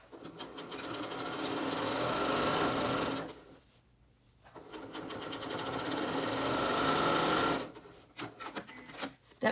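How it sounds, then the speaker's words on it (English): A sewing machine runs close up stitching a garment's short-edge seams at 5/8 inch, steady humming and rattling in two long runs separated by a short pause, then it stops with a few light handling clicks. "I am going to stitch both of these seams, just this shorter edge at 5/8 on both of these."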